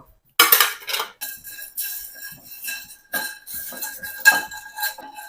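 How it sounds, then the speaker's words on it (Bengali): Whole nutmeg, peppercorns, cloves and cinnamon sticks rattling and clinking in a dry pan, a series of loud close scrapes and taps in irregular bursts with short pauses, no talking. "ছোট একটা জায়ফল জায়ফলটা বড় না আর কয়েকটা গোলমরিচ আর লং দারচিনি একসাথে টেলে নিব"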